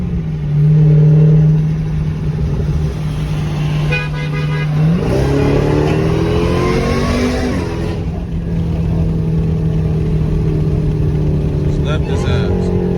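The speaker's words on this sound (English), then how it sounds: "I'll tap on the gas a little bit like this, and then the RPM's high" A Dodge SRT engine idles with a steady low drone, then a tap of the throttle sends its pitch climbing in a rev before it settles back to idle, with brief horn-like tones mixed in.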